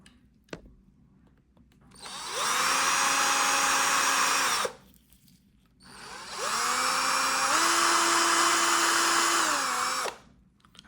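A power drill whines loudly through two sustained bursts of a few seconds each, drilling a small part during prosthetic finger assembly, with a short pause between and the pitch dipping as the bit bears down.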